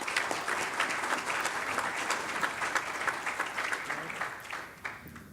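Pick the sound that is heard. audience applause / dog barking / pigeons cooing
audience applause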